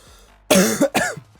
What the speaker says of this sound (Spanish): Perdonad por tener que toser